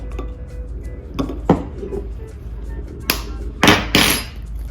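Two eggs are cracked open for an egg wash, giving a few sharp taps and cracks against a hard edge with brief shell and bowl clatter. The sounds are close and irregularly spaced, without talking.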